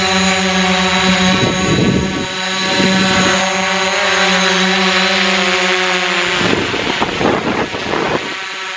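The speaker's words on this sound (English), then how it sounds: "First maiden run of the DJI Mavic drone." A DJI Mavic Pro drone in flight on its first test run in New Zealand, a loud steady high-pitched propeller whine that shifts pitch as it manoeuvres, with no talking.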